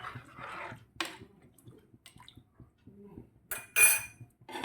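A spoon stirs a homestyle mango, drumstick and jackfruit-seed curry with Kashmiri chili powder in a pot, making sparse metallic clinks and scrapes with quiet gaps between, ending in a brighter clatter.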